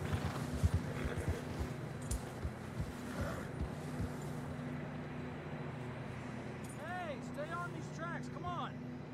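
Hooves thud in an uneven plodding rhythm through snow in Red Dead Redemption 2, under a steady wind-like rumble, with a voice speaking over it and brief whinnying squeals near the end.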